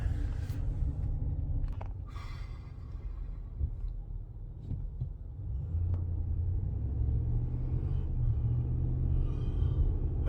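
New truck cruising on the road, heard from inside as a steady low rumble of engine and tyre noise with faint scattered knocks, continuous and fairly loud throughout.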